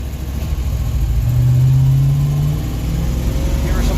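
A car engine with a three-gear transmission hums and revs up under manual shifting, the tone rising and holding before easing back down, a steady close drone throughout.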